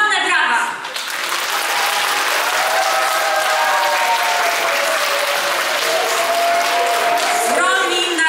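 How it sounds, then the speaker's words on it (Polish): Loud, sustained applause from a large audience at a theatre performance fills the space, steady clapping with a rise at the end. "Ogromne brawa!"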